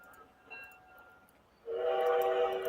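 A model steam locomotive sounds its whistle: a quiet background hum gives way to a loud, sustained, steady whistle blast that lasts to the end, close by, with no speech.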